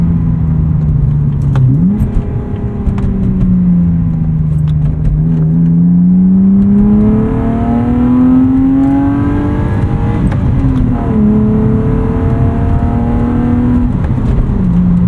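A 1995 BMW E36 325i engine drones loudly from inside while driving, its pitch climbing and falling through manual gear changes, steady rumble with no talking.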